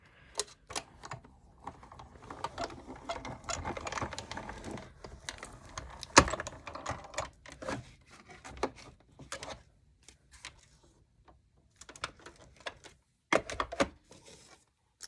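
Hand-cranked die-cutting machine pressing a card die through cutting plates, a close series of irregular clicks, ratchets and knocks from the crank and rollers, with quiet gaps between bursts.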